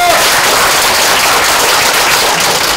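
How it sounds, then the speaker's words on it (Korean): Applause during a Pyeongtaek city council session, a dense, loud wash of clapping from many hands that continues evenly for a few seconds. "박수 한번 주세요."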